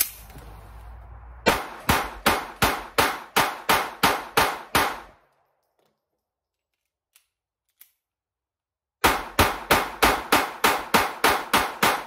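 A Ruger LCP II pistol fires Remington Thunderbolt ammunition in two rapid strings of about nine sharp, loud shots each, separated by several seconds of near silence with a couple of faint clicks.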